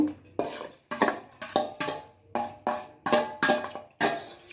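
Soya chunk momo filling with chopped onion, ginger, garlic and green chilli being mixed in a bowl, heard as repeated loud scraping and clinking strokes of a spoon against the bowl, about nine in steady rhythm, close up with no talk.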